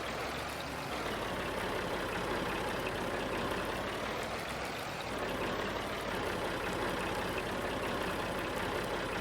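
A tractor engine in the Farming Simulator 19 video game, a continuous low droning rumble that stays at an even, fairly quiet level throughout with no voices.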